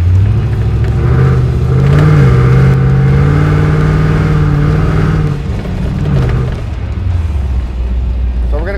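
A 1964 Lincoln Continental V8 revs up loudly, its pitch climbing and holding before falling back to a deep idle.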